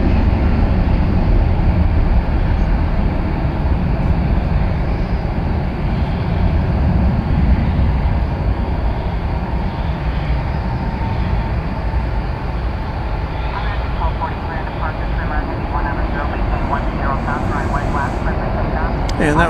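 An Airbus A319 airliner arriving at DFW Airport roars loudly and steadily through the whole stretch, with engine rumble and whine close at hand; a voice talks over it.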